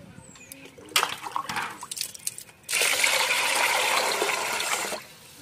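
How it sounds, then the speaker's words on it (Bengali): Water pours steadily onto washed rice in a bowl for soaking, a continuous splashing rush lasting a couple of seconds after some brief earlier trickles and handling noises. "এবার জল দিয়ে এটা আমি ভিজিয়ে রাখবো।"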